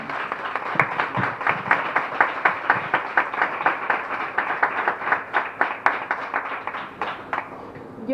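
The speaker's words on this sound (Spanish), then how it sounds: "un aplauso fuerte para ella" Applause from an audience at a talk on shamanism, a steady wash of many hands clapping with a few louder individual claps standing out, sustained at moderate volume from start to finish.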